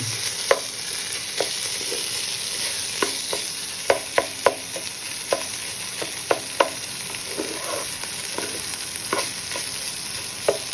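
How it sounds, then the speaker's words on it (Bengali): Cumin and ginger paste with spices fry for Bengali khichuri while a spoon stirs, giving a constant bright sizzle punctuated by a dozen or so sharp clicks of the spoon against the pan, close and without talk. "1 চামচ জিরা বাটা দিয়ে আমি আর কিছু মশলা এখানে আট লাগবে না। আমি নাড়াচাড়া করছি।"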